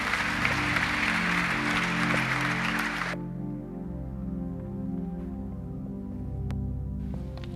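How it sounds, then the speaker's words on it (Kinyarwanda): A church congregation applauds loudly for about three seconds, then the clapping stops abruptly while sustained musical tones carry on underneath. "Reka dukomere Imana amashyi."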